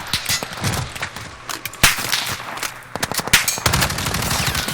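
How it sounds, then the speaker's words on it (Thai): Rapid bursts of automatic gunfire and single sharp shots crack loudly in Call of Duty: Warzone, firing in uneven volleys with brief pauses between them. "โอ้ใครยิงวะ"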